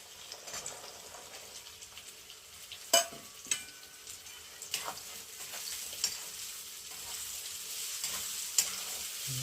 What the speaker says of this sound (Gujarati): જો વટાણા આપણે બરાબર એને સડી જવા દઈશું